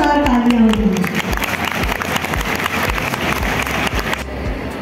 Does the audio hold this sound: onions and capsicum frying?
no